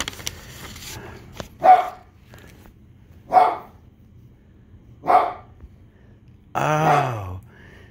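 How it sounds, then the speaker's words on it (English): An excited dog barks three times at steady intervals, loud and close, then lets out a longer groaning, whining bark. "Even Toby is barking with excitement"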